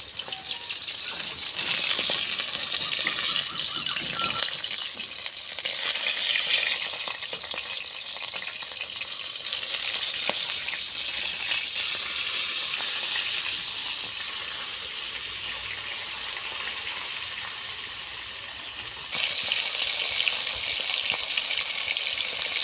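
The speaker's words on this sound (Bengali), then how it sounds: "কিছুক্ষণ পর মাছগুলোকে উল্টে দিব" Catla fish frying in hot oil gives a continuous loud crackling sizzle with small popping bursts. Stirring or turning the pieces shifts the intensity partway through. The pan is close, and no one speaks.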